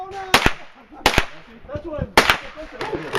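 Four sharp, loud SCAR rifle gunshots fire at an uneven pace on an outdoor range, each a hard crack with a short tail. Voices talk in the gaps between shots.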